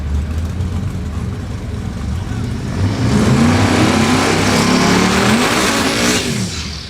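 Turbocharged LS-swapped Fox Body Mustang in Calypso Green at a drag racing event, a loud close engine rumble building into a hard accelerating run with rising pitch, then fading.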